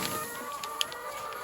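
Chickens in a pasture coop on an A-frame, housing around 300 birds, cluck faintly in a steady outdoor wash with one brief sharper call.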